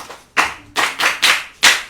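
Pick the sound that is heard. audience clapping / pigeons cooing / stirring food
audience clapping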